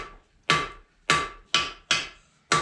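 A blacksmith's hammer strikes steel on an anvil with five sharp, ringing blows at a steady, slightly uneven pace. Each hit is loud and close, rings briefly as it decays, and no one speaks.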